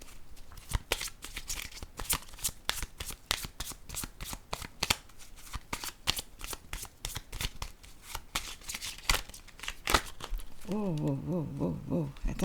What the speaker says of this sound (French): ça fait beaucoup de cartes qui tombent en même temps